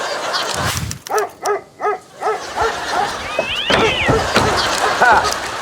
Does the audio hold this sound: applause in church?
no